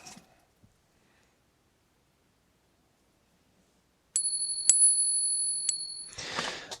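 A silver dollar coin struck to test its ring gives a clear, high, sustained metallic ping that rings for about two seconds, with brief extra taps, in a quiet room before a short rustle.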